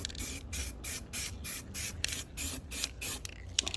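A spray can coats a refurbished WWII US M1 helmet in short, close bursts of hissing spray. About ten evenly spaced pulses follow one another in a regular rhythm.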